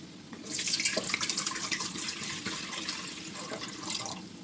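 Water pours steadily into a metal idli steamer pot, a rushing, splashing stream that lasts several seconds at close range before tapering off.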